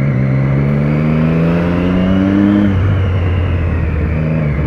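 A Fiat Uno carrying a ladder on its roof passes close by, its engine whine sliding lower in pitch as it goes past, loud over steady road noise.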